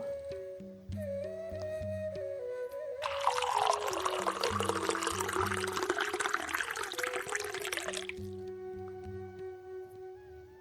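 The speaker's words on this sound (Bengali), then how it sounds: "এখন আমি এখানে পরিমাণ মতো পানি দিয়ে দিব।" Water is poured into a clean glass in a steady, splashing stream lasting about five seconds, rising over soft background music that continues before and after.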